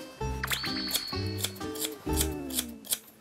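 Snipping of kitchen scissors cutting hair up close, several crisp metallic cuts in quick succession, clear and alone with no talk.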